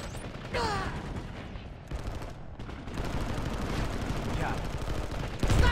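Gunfire in the online shooter PlanetSide 2: a dense spread of rapid automatic shots and bursts, fairly loud and continuous, with a heavier blast near the end and shouted voices over the firing.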